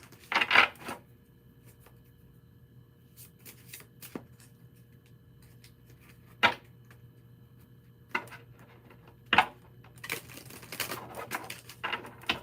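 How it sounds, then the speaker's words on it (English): Deck of cards being shuffled and flipped, several quick riffling bursts and single sharp snaps separated by quiet gaps, close and clear. "That was not a good shuffle."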